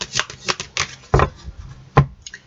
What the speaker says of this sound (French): on va tirer deux autres cartes de l'oracle des miroirs